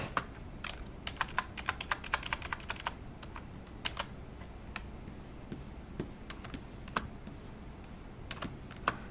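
Computer keyboard keys click in quick scattered bursts while working in a drawing program, close and fairly quiet taps with short pauses between groups.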